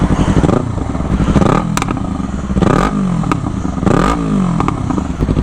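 A Yamaha MT-25 motorcycle, exhaust removed and only the catalytic converter left, revs up and down repeatedly, loud and close, with harsh crackling rasp on each rise.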